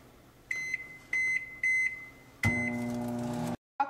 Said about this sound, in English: for this melting chocolate, we put it into the microwave for 2 minutes.